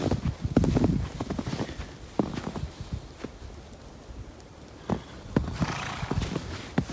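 A horse's hooves clop and shuffle nearby in irregular steps, with a few soft snorts and rustling outdoors in light May snow in western Maine, fairly quiet overall.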